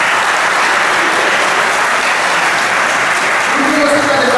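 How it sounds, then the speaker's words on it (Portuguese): Steady applause from a congregation at a Catholic Charismatic Renewal prayer-group gathering fills the room, sustained and fairly loud, with a few voices rising over the clapping near the end. "Merece uma salva de palmas."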